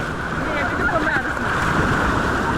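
A steady, dense wash of breaking Black Sea waves at Odesa with wind buffeting the microphone, continuous and loud throughout.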